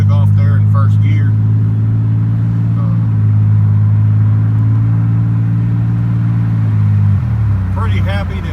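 A car fitted with a junkyard transmission pulls away in first gear, its engine rumbling loud and steady, then the pitch drops sharply near the end; a person talks faintly at the start and close.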